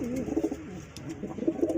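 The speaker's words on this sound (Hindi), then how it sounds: "ये मेरे कबूतर है" Pet pigeons, including fancy and royal breeds, cooing close by in repeated soft, throaty bursts that rise and fall in a steady rhythm, with no talking.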